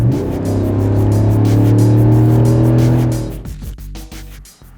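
A 2021 Chevrolet Silverado V8 with the optional HSV exhaust gives a deep, loud, sustained drone that holds steady and then fades away over the last seconds.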